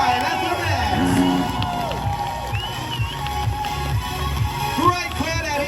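A crowd at a Showtime FMX freestyle motocross show at Wet N Wild Australia cheers and whoops steadily, with scattered claps and shouts mixed into a dense, lively roar around an announcer talking.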